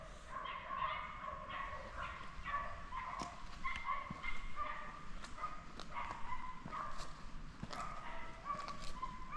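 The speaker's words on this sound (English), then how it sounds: "There is dogs barking everywhere" Dogs bark at a seaside city, repeated yaps and yelps that keep coming from several directions at moderate distance over a steady outdoor background, with some whimpering and no speech.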